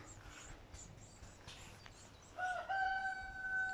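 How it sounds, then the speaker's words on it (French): A backyard rooster guarding its hens crows once near the end, a loud drawn-out call breaking over quiet garden ambience and faint distant bird chatter. "Le coq va chanter."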